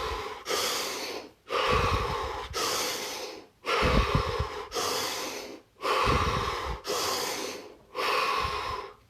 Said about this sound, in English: Take 5 deep breaths, 5 expansive deep breaths.